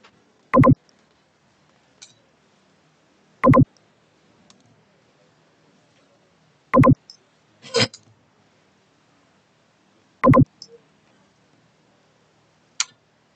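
Four sharp, loud clicks of computer keys, spaced a few seconds apart, with a few fainter ticks in between, heard in a quiet room during Dreamweaver web-design work. Nobody speaks.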